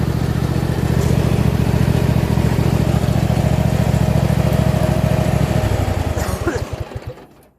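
A loud racing lawn mower engine revs hard and steady with a dense, buzzing pulse, then the clutch is dumped and the engine drops into slower, choppy firing before fading out near the end.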